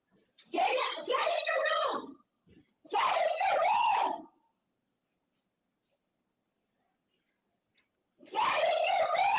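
Teachers screaming inside Uvalde school during the shooting, three loud bursts of frantic shouted voices separated by a long silent gap, urgent and strained.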